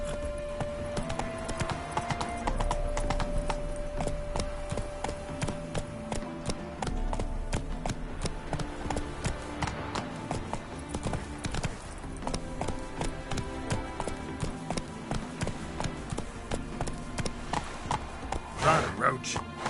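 Hooves of the horse Roach clip-clopping at a rhythmic gallop in the video game The Witcher III, steady repeated thuds under game music and a voice speaking briefly.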